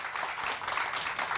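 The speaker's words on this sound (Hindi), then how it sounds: "तालियां बजा सकते हैं आप" A studio audience on a morning TV show breaks into steady, continuous applause, with dense clapping heard from a moderate distance.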